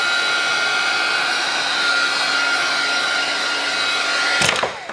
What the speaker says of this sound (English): Let's just use our heat tool, and this will then just heat set the paint splatters